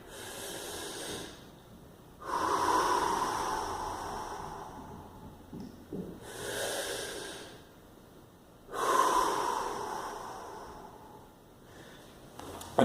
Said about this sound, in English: I'm going to hold this position and do some deep breaths